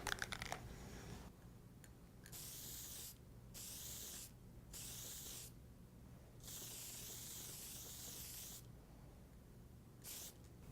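Aerosol spray paint hisses onto the Kevlar tip of a Hartzell composite propeller blade in several strong bursts, each separated by a short quiet pause.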